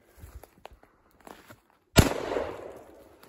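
A single sharp, loud gunshot bursts out in a video game match after a few seconds of quiet footsteps and light movement, followed by a short decaying rumble.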